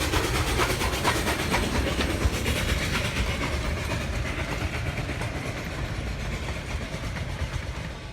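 A D&RGW K-28 steam locomotive, No. 476 with a diamond stack, runs a passenger train in winter, giving a steady rumbling roar with faint rhythmic chuffing and hiss that fades slightly as it goes.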